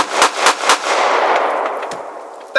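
Gunfire at a shooting range: three quick, loud, close shots in rapid succession, then a long ringing, rumbling decay that fades out before a final sharp onset.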